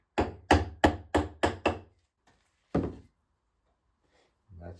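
A small wooden shim is driven in with a hammer to clamp boat planking on a wooden rowboat being rebuilt. Six quick, loud knocks come in a steady rhythm, then one more after a pause and a faint sound at the end.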